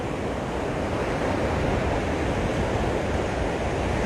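Choppy ocean surf breaking at Waimanalo Beach, Hawaii, a constant loud wash of waves and wind rumble with no voices.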